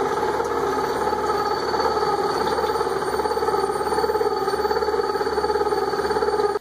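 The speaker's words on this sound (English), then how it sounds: "What we have here is a Barbara Coleman gear hob. It cuts gears." A Barber-Colman gear hobbing machine runs steadily while cutting gears, giving a continuous, close mechanical hum with a fine rapid chatter and a faint high whine, and no pauses until it stops abruptly at the end.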